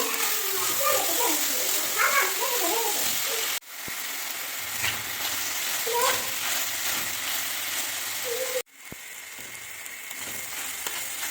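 Roasted peanuts, fresh coriander, turmeric and salt sautéing in a pan, giving a steady sizzling hiss with occasional spatula scrapes, while someone talks over it throughout.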